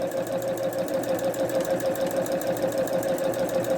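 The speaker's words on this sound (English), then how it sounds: "I'm going to go ahead and start sewing and do a quick back stitch" A sewing machine runs steadily at close range, stitching fabric with a back stitch, making a continuous rapid mechanical hum with an even pulsing rhythm throughout.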